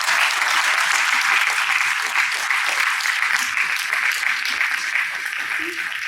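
Loud, sustained applause rings out in a university hall after a talk on forest fires in Bolivia, a steady mass of clapping from a large audience.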